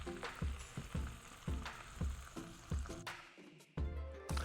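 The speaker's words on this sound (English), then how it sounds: "oil's getting nice and hot. We'll drop these puppies in. Oh yeah, that's the sizzle." Duck pieces sizzle and pop in hot oil, with repeated sharp crackling bursts over a constant frying hiss, close by.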